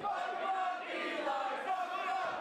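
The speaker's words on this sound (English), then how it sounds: "The crowd getting Eli riled up." Wrestling crowd at a men's singles match keeps up a steady, loud roar of cheering and yelling throughout, with no pauses.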